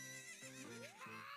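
A horse in Zelda Ocarina of Time 3D gives a loud, close whinny, a quick rising and falling neigh that lasts about a second, with no other sounds around it.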